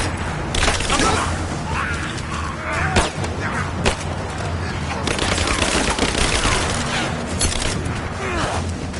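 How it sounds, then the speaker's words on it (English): Sustained automatic weapon fire and sharp shots in the action game Rise of the Tomb Raider, loud and dense throughout, with mechanical clatter and shouted voices mixed in. "Give me suppressive fire now!"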